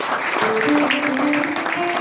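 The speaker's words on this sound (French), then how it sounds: "sous vos applaudissements, je vais demander aux enfants de rejoindre leur classe" A church congregation applauds in a dense, steady wash of clapping, with faint tonal sounds running underneath.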